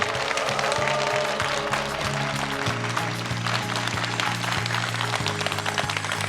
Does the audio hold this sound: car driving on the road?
no